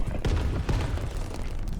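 A layered sound-design mix for a dark magic spell effect, built from fireworks and leather creaking, delivers loud, close, rumbling booms and crackling bursts over about two seconds.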